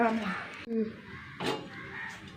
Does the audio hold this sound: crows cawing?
yes